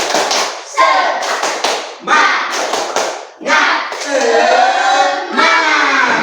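Standing classroom students perform the rhythmic 'tepuk semangat' clap routine, loud close bursts of patterned claps broken by short pauses and a shouted chant of children's voices.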